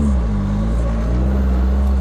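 Idling turbocharged SR20DET engine of a 1990 Nissan 240SX with a Garrett GT2871 turbo, a loud, steady low rumble with harmonic drone, heard close up and alone just before a launch.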